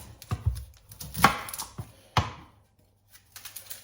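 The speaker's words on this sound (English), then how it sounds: "got one small onion here. Just going to chop that up" A small onion being chopped on a board for egg shakshuka, a handful of sharp knife strikes spaced unevenly, close and fairly quiet, with a short pause before a few more light taps.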